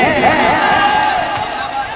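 Dense applause from an audience at an Indian mushaira poetry recital in Barabanki, a steady wash of many hands clapping with crowd murmur, continuous and fairly loud throughout.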